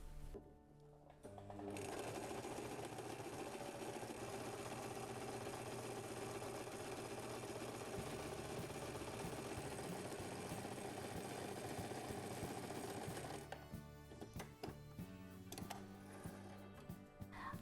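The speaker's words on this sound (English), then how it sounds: "To sew a curve, what you need to do is be really patient" A sewing machine stitches the curved seam of a fabric gimbal case, running steadily and loudly with a dense mechanical whir for about twelve seconds before stopping, followed by quieter handling and a brief restart.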